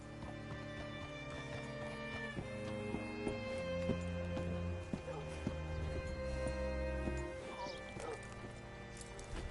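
Horse hooves in a video game clip-clop steadily at a walking pace over a sustained musical score, with occasional whinnies.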